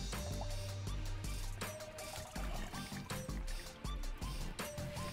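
Washed collard greens pressed down in a colander in a sink release water in uneven pours and trickles, with splashes and dribbles coming in short bursts, close but fairly quiet, with no talking.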